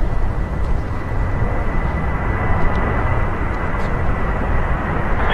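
A Jet2 Boeing 737-800 jet airliner at Manchester Airport gives a steady, fairly loud engine roar with a broad rumble that holds throughout, no voices heard.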